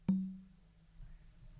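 A single bongo hit programmed in FL Studio for a Seben beat, a sharp close tap with a ringing low tone that decays, followed by a softer second note.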